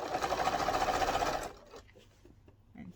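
A sewing machine stitching a round boxed cushion along its piping hums rapidly and steadily for about a second and a half, then stops, leaving quiet handling sounds.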